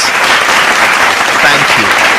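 An audience at an advertising report unveiling breaks into loud, dense applause, continuous clapping from many hands with no pauses.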